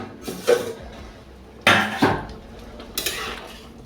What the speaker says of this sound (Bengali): ঢাকনা দিয়ে দিচ্ছি।